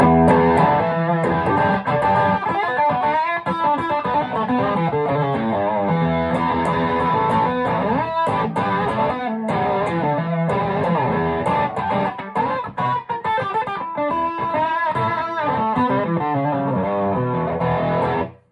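Electric guitar boosted by a Naga Viper pedal with no gain, a warm overdriven tone, plays a steady riff, loud and dense, with no other effects and no voices throughout.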